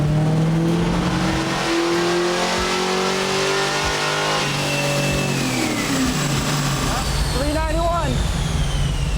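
A 1969 Camaro V8 revving hard on a dyno, its engine note climbing steadily through a long pull before falling back with rapid rev blips, loud and near, with voices mixed in.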